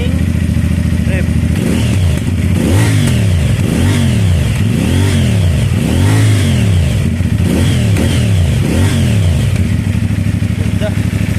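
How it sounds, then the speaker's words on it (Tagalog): A CFMoto 450NK motorcycle with its stock exhaust pipe idles loudly up close, with a series of repeated throttle blips rising and falling over the steady engine rumble. "CF Moto 450 NK sound check. Idling."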